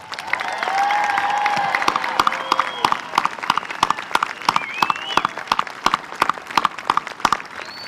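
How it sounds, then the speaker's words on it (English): Graduates at a 2022 high school graduation ceremony are applauded by a large audience, with whistles and cheers over the clapping, which settles into a loud, steady, rhythmic beat. "How about a round of applause for all of our graduates?"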